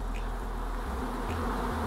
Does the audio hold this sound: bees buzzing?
yes